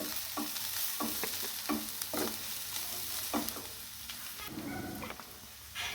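Vegetables stir-fried for veg hakka noodles in a hot pan: a steady sizzle broken by repeated scraping strokes of a spatula, close and loud, with no voices.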